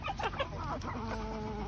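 A mixed backyard flock of chickens, hens among them, clucks and murmurs while pecking at salad greens. Short overlapping clucks rise over a faint steady background hum, close by and moderately loud.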